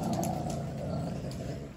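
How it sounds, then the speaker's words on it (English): A dog gives a low, continuous growl close by, a rumbling snarl lasting under two seconds with a few faint higher squeaks or clicks above it and no voices. "What you growling at, son?"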